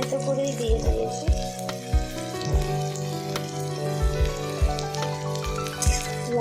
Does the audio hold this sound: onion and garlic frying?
yes